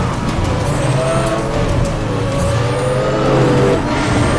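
A racing car engine in Need For Speed The Run drones loudly and continuously, with shifting whine and road rumble throughout.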